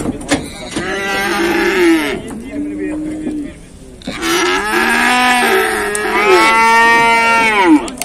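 Calves at a cattle market in Beylagan bellow and moo in several long, loud calls, close by and filling most of the stretch.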